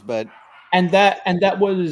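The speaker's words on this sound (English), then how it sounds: "If you can hear that behind the barking dogs" A dog barks and yips in short bursts close by, mixed with someone talking over it, the sounds brief and overlapping across two seconds.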